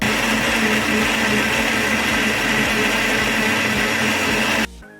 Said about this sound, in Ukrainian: Блендер доволі шумний.